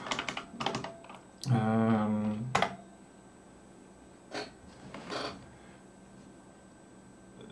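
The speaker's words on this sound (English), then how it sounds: "It's genuine IBM keyboard." Keys clatter on a genuine 1984 IBM computer keyboard, with several bursts of clicky typing separated by quiet gaps. One loud buzzing tone interrupts the typing for about a second.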